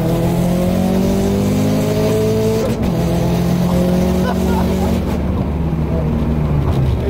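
Subaru WRX making 400 wheel horsepower accelerates hard with flat-foot shifts, loud rising engine tones that drop sharply at each gear change, heard from inside the car with voices now and then.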